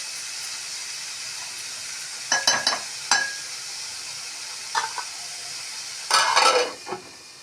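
Ivy gourd curry simmers in a pan with a soft, steady hiss, broken by a few short clinks and scrapes of stirring, fairly quiet and close.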